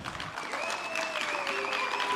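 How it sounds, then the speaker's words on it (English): A conference audience at a sector skills gathering gives a steady round of applause, dense and sustained across the whole moment with a faint tonal ring running beneath the clapping. "a Cathsseta round of applause"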